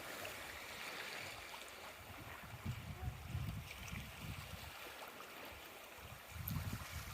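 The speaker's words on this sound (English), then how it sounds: "Nice, peaceful ocean." Gentle ocean water laps and washes steadily, with soft low surges swelling now and then. There are no voices.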